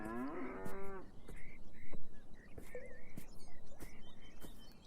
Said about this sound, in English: And the cow has entered our world space.